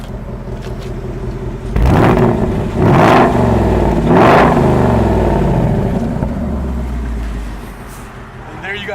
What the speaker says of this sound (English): And finally, the sports mode.